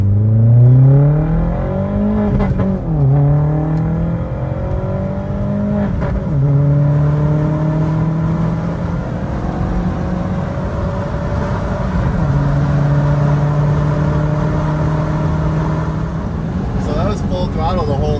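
An Audi B5 with new 2.0 coil packs accelerates hard through the gears, the engine revving up in repeated rising sweeps with pops at each shift, loud and close inside the car while someone talks.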